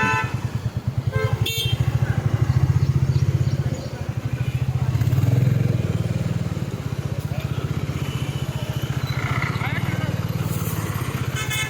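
A vehicle horn honks in jammed traffic in Karad over a steady motorcycle engine rumble, with people talking nearby.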